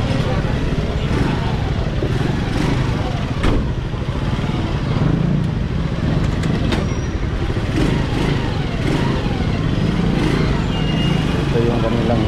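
A motorcycle riding through city streets toward the Iloilo City Hall parking area, its engine droning steadily and close alongside traffic and road noise, with a rider's voice heard over it.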